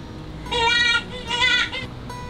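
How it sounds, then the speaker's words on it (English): Recorded jackrabbit call played from an exhibit button at a children's museum: two loud, high, squealing cries in close succession, separated by a short gap. "Yeah, that's the jackrabbit."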